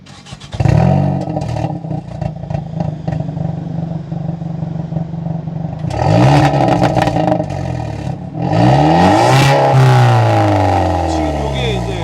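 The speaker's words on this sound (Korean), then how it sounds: "중통 직관 배기음" Hyundai Veloster N 2.0 with manual gearbox and straight-pipe mid-section exhaust, loud and close, revving repeatedly in sharp bursts with crackling pops between pulls, people talking faintly nearby.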